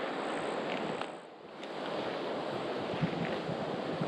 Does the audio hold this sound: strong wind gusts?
yes